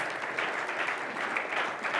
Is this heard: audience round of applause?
yes